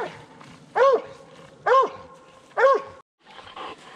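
A hunting dog bays at a treed raccoon during a night coon hunt, three loud, evenly spaced barks ringing out close by over a low outdoor hum.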